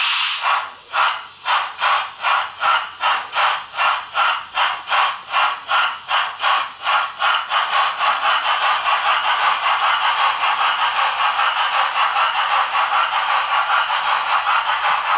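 An HO scale model train rattles steadily around a radius 2 reverse curve, its clicking wheels pulsing rhythmically and close by, then settling into a continuous rolling rattle with a faint hiss.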